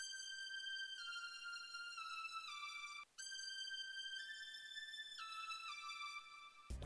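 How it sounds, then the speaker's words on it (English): A bright FXM saw lead patch from a Roland XV5080 plays a simple stepped pattern of sustained notes, each held about a second before sliding down a step, steady and alone with a brief gap midway. "I went back into XV5080 and grabbed this FXM saw lead and laid out this"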